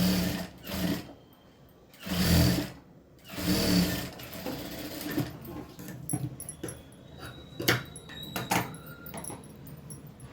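A sewing machine stitches a blouse in bursts, with loud whirring runs, pauses between them, and clicks and small handling knocks. A dog is heard faintly in the background.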